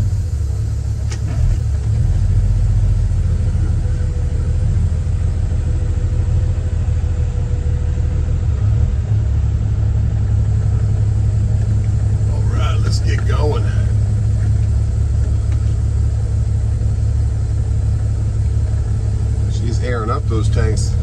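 A show truck's engine warms up at idle, a deep steady rumble that runs unbroken throughout, with brief higher engine or vehicle noises around the middle and near the end.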